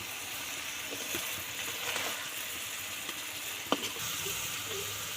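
Fish and prawns fry in masala with a steady, quiet sizzle, broken by a few faint clicks and taps of stirring.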